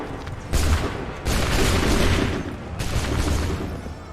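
Musket volleys crash out in Assassin's Creed III, three loud broadband bursts with rolling, sustained crackle and booming low rumble between them, no voices heard.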